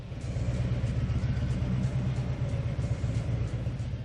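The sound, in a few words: Harley-Davidson motorcycle engine roaring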